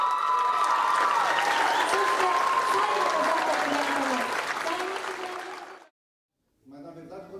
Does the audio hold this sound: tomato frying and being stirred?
no